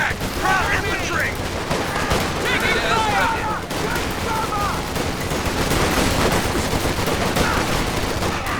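Vickers machine gun bursts and heavy gunfire in a Company of Heroes 2 battle, continuous loud rattling fire with overlapping shots and distant booms throughout.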